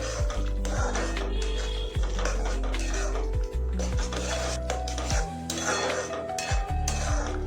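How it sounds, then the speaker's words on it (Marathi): Malvani masala and turmeric being stirred together in a pan, a steady scraping and rubbing of a spoon against metal with recurring knocks, close and continuous throughout. "असे मसाले मिक्स करूया"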